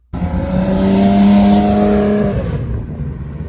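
A Porsche sports car engine roars loudly past, its steady high-pitched whine holding then fading as the car drives away.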